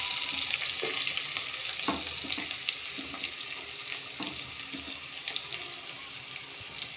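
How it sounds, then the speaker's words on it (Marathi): Onions frying in hot oil with spluttered mustard seeds and curry leaves for a Maharashtrian brinjal bhaji, a steady close sizzle with occasional scraping stirs throughout, no talking. "मग कांदा फ्राय होईपर्यंत भाजून घ्यायचा"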